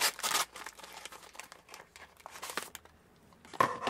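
A posh gift bag crinkles and rustles in bursts as a card is pulled out of it, papery crackles near and fairly quiet, loudest at the start and end.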